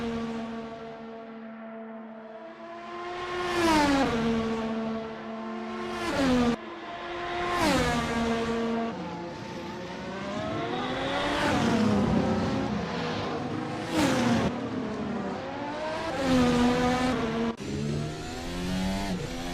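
Race car engines in the Assetto Corsa video game rev and shift repeatedly through a speedway corner, pitch rising and dropping with each gear change, loud and continuous with several cars passing.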